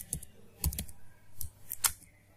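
Keys clatter on a computer keyboard while Python code is typed, in a few quick bursts of clicks separated by short pauses, close and fairly quiet.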